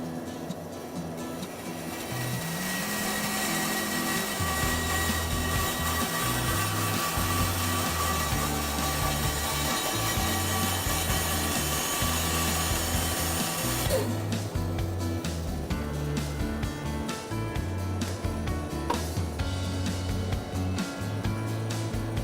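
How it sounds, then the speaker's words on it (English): A bandsaw cuts through a chunk of wood in a home workshop, its loud continuous whine and rasping blade noise starting after a brief quiet lead-in and holding steady to the end, with no speech. "then I'll be going to the bandsaw."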